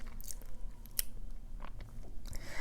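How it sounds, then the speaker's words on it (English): Close, quiet chewing of big bites of a gigantic burrito with tortilla and fillings, steady wet crunching and mouth sounds with small bites and clicks, no talking. "Lots of chewing, big bites."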